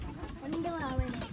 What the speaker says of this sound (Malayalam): അന്റെ പ്രാവുകളാ